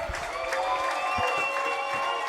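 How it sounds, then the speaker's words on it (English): A baseball crowd of River Bandits fans cheers and claps loudly in the stands, a steady sustained roar with clapping mixed in and some voices talking underneath. "The River Bandit fans getting loud."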